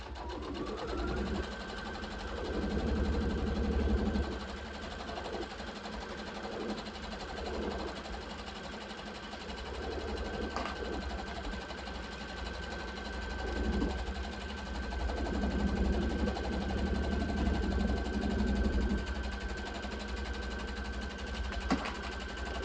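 A Brother sewing machine stitches fabric with a steady mechanical whir and rapid needle clatter, speeding and slowing in bursts, heard up close against a faint constant hum.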